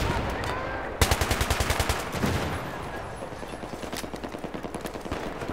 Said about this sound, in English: You can hold it down, it shoots pretty steady.